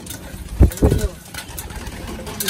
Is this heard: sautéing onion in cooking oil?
no